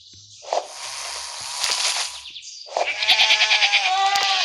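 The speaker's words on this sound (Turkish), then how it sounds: "Keçi vardı burada keçi." Two bleats from a goat in the Township farming video game, each a wavering, nasal cry. The second is longer and pulses in a quick rhythm, with small clicks of game sound between them.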